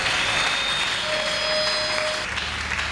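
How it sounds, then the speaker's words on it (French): Church congregation applauding for Jesus at a sermon: a steady, dense wash of clapping hands from many people, sustained and even throughout, with a faint tone running underneath. "Nous acclamons très fort pour Jésus"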